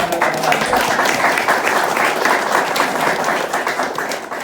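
A church congregation applauding together, dense continuous clapping from a crowd, loud and close, fading slightly at the end.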